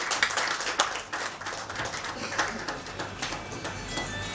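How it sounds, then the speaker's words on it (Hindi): Steady applause from an audience at a foundation-day event, many hands clapping densely throughout with a few sharper individual claps standing out. "जोरदार तालियां एक बार उनके लिए बजाएं"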